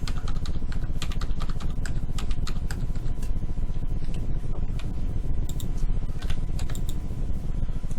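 Steady, rapid clicking of a computer keyboard as someone types while modelling a house in Revit, with close, dense keystrokes throughout and a faint background hum.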